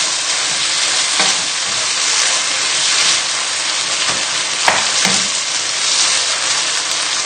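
Chilli chicken stir fry with rice vinegar being stirred together in a pan: a loud, steady sizzle runs throughout, broken by a few sharp scrapes and clatters from the stirring.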